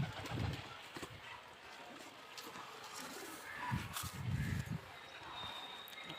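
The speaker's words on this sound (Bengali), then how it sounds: "খুব ভালো কবুতরের বাচ্চা কবুতর বাচ্চা দুটো" Caged pigeons give soft, low cooing in two short bursts, one near the start and one fuller run midway, over a faint, quiet background.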